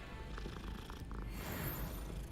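A cat in a wizard video game purrs softly and steadily, a low rumbling vibration that continues without pause.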